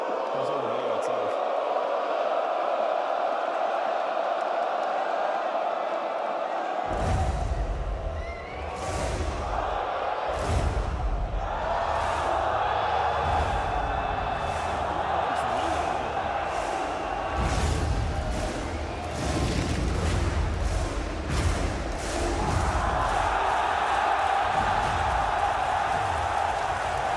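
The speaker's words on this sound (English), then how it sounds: "There's a lot of cheering" A large crowd cheers and whoops continuously at a live game industry event, loud and sustained with scattered shouts and claps. A brief quieter intro precedes it.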